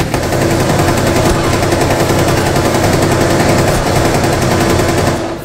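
Machine gun fire in the video game Rainbow Six Siege, on the Villa map, sounds as one loud, unbroken stream of rapid shots that stays close and steady before trailing off at the very end.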